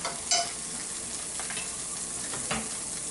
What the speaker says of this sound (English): I'm just gonna throw a little butter in the grill.